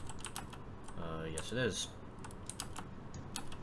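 Loud computer keyboard typing clatters throughout in rapid, uneven clicks while a voice briefly speaks over it during a Minecraft session.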